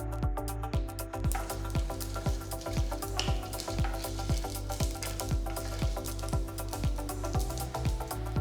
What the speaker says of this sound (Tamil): கடுகு வெடிக்க ஆரம்பிச்சதும்